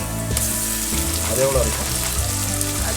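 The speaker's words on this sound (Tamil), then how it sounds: "நல்லா வெங்காயம் வதங்கட்டும்" Onions sauté in a pan for egg biryani, a steady dense sizzle and frying crackle throughout while a person talks briefly over it.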